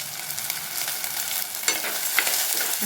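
Prawn curry base sautéing with rock salt in a pan, a steady bright sizzle with a few scraping stirs cutting through near the end, close and fairly loud.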